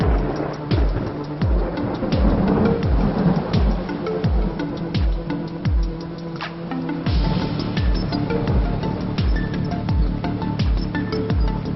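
Heavy monsoon rain pours steadily across North India while thunder rumbles through it, with repeated sharp crackling bursts over a dense, continuous wash of rainfall.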